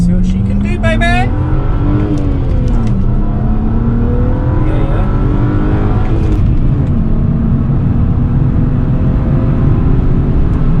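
A stage 1 BMW 335i accelerates hard along a straight, its engine note climbing through the revs with a shift partway, loud and close from inside the car.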